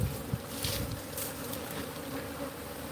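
Honeybees at their hive make a dense, steady buzz that drones on continuously. It sounds close and swarming, with slight rises in pitch and a few nearer bees flying past.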